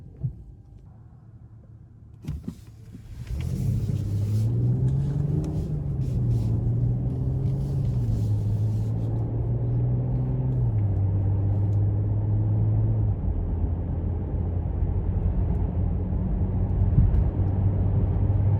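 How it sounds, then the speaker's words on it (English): 2022 Mercedes-Benz S500 4Matic pulling away and driving on the road, a low engine hum that rises and shifts in pitch under steady road rumble heard from inside the cabin, after a quiet start and a brief click. "we're gonna go ahead and take this 2022 S500 out on the road for a quick test drive."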